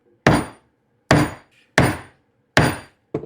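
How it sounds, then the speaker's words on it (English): A chisel chops a mortise into a wooden workbench leg, four loud sharp mallet strikes at roughly even intervals with short woody decays, a fifth blow cut off at the end. "keep chiseling this and coming in until I meet into like almost a point in the middle"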